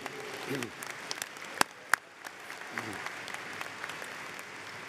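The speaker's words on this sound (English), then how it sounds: "she deserves a round of applause" Applause from a seated audience at a university commencement ceremony, moderate and steady across the hall, with a couple of sharper claps standing out and faint low rumbles of movement underneath.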